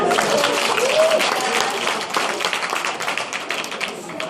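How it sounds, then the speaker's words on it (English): An energetic audience at a Vemma Netherland event gives a lively round of applause, dense clapping with a few cheers, loud and close, easing slightly near the end. "Let's give you guys a round of applause."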